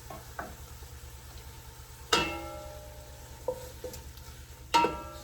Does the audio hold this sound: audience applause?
no